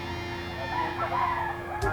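An 18-month-old bull stag gamefowl crows once, fairly close, with a voice talking over it.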